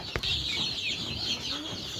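Wyandotte chickens cluck softly nearby over a constant hissy background, with a brief flap or thump near the start.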